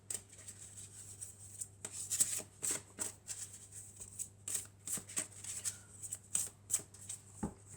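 Oracle cards of angels and crystals are shuffled and handled up close, giving soft rhythmic rubbing and riffling bursts in a quiet room with no talking.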